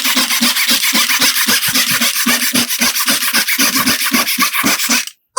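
A handsaw cutting through wood the old-fashioned way for a keepsake box: a close, loud, steady rasp of rapid back-and-forth strokes that stops abruptly at the end.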